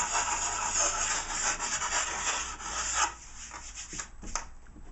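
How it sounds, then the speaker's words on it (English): The metal edge of a snowboard is filed down by hand with close, dense rasping strokes that thin out into a few separate scrapes near the end, with no talk. "if it's metal, you're just going to grind it off"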